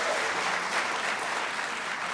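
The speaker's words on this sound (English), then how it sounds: "Please hold your applause." Audience applause at a congressional candidate forum, a soft, even patter of clapping from a moderate crowd, steady and unbroken with no talk.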